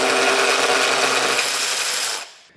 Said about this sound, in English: we're gonna go ahead and get the last 18mm bolt off on the tow hooks here